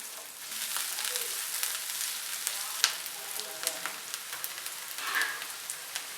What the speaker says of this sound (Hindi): अब पैन में डालेंगे ऑयल, प्याज और शिमला मिर्च। इनको हल्का सा फ्राई करेंगे।